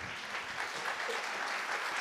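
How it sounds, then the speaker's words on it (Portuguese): A congregation applauding at a Marian congress in Fátima, Portugal, a steady, dense wash of many hands clapping that stays even and fairly distant throughout, with no voices rising above it. "Aplauda a palavra da salvação"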